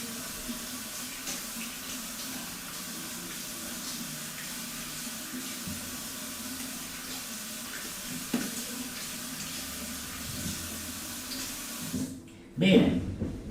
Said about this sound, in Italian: vado a sciacquare immediatamente con acqua sicuramente non fredda